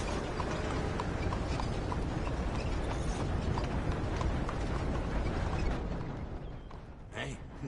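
A horse's hooves clip-clop steadily in the Red Dead Redemption video game, a fast rhythmic trot beneath a dense wash of ambient game sound that thins near the end.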